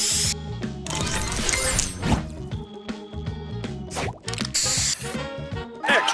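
Spray booster effect in the Match Masters puzzle video game: loud hissing spray bursts mixed with splashy crashes, smacks and bright chiming game tones over a continuous musical background.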